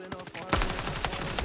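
Rapid automatic gunfire from the Standoff 2 mobile shooter game crackles in dense, fast bursts, at moderate loudness with no voices.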